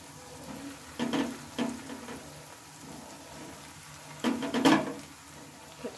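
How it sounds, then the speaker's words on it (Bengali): Mashed potato balls frying in hot oil, a steady soft sizzle and crackle with a few louder bursts of spattering near the start and again toward the end, no voices. "তো চলো এগুলো ভেজে নিই আমি।"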